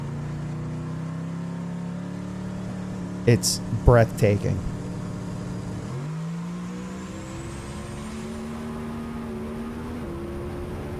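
A high-horsepower drag race car accelerates with a loud, droning engine tone that shifts and climbs partway through. A person speaks briefly over the engine.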